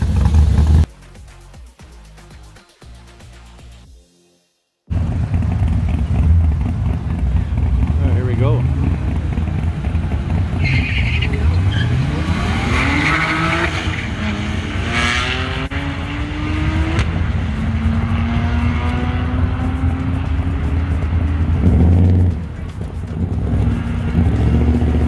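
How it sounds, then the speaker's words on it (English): A 2010 Audi S4 V6 and a 2017 BMW 335i line up for a quarter-mile drag race, with a loud, sustained roar of engines accelerating and revving through the gears after a brief burst of noise and a pause. "he's going to be going against the Audi 2010 S4 with the V6 as well"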